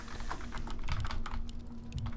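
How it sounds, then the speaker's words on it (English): Hard, rapid typing on a wireless computer keyboard, a dense run of loud, close key clacks with a couple of heavier thumps, all beneath a steady background hum. "I'm banging on the keyboard too much."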